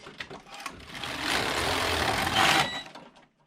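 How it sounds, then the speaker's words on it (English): A Passap E6000 knitting machine knits rows as its carriage is pushed across by hand, making a rising, continuous mechanical whir and clatter that peaks near the end of the pass and then stops, close and moderately loud. "I'm going to do a few rows before I turn the motor on to make sure this is knitting okay"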